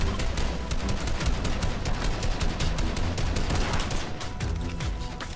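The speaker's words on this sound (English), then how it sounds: "am I getting shot at from behind now?" Rapid overlapping gunfire in the Fortnite video game, dense and continuous bursts of shots throughout, loud and close with no pauses or talking.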